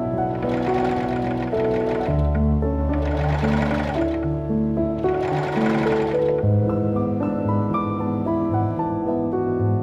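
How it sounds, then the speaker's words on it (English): A sewing machine stitches down the facing of a 1903-style trumpet skirt in three close, loud bursts with short pauses between them, and a motor whine continues after the last burst. "Then it was sewn down by machine."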